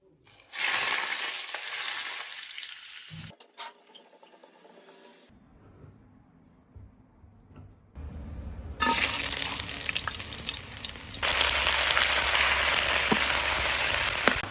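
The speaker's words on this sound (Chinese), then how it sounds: "倒入热油，" Hot oil poured into a wok sizzles and fries loudly in bursts, with quieter gaps and clattering between, then a sustained, intense frying hiss fills the last several seconds.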